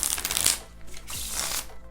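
Playing cards being shuffled by hand during a card magic practice session, a dense fluttering riffle in quick bursts that carries through the two seconds at close range with no voice over it.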